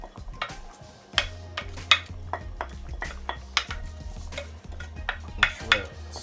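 Rice tipped into a metal cooking pot for Jamaican seasoned rice, then stirred, with scattered clinks and scrapes of a spoon against the pot over a low steady hum, with no talking.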